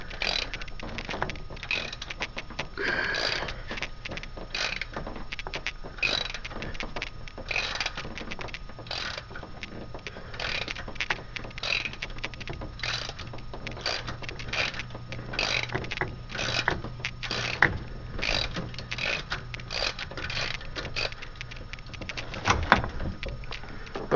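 A wrench slowly loosening a bolt on an engine rocker arm while valve lash is adjusted gives repeated short ratcheting clicks and scrapes, steady and close, with brief metallic knocks throughout.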